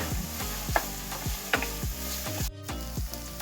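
Onions frying with salt in a pan, steady sizzle broken by regular scraping strokes of a spatula stirring them, about one stroke every half second, close and clear with no talk.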